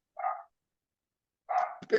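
A dog barks twice, a single short bark followed after a pause by a sharper double bark with a sniff or snort, close and alone with no talk.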